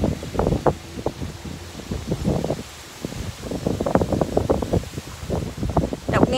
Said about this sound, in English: The wind is really cold.